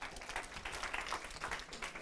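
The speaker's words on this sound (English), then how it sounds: "Round of applause for Shan" Audience at a talk on hiring women in tech sales giving a round of applause, a short, fairly faint burst of mixed clapping from a small room.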